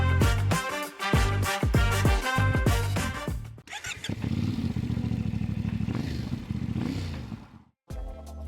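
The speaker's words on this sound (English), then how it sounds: "I'm in China right now to be the first one to test ride the all-new CFMOTO 1000MT-X" CFMOTO 1000MT-X adventure motorcycle being ridden, opening with clattering mechanical bursts, then a sustained engine drone with shifting revs before a sudden cutoff and brief restart.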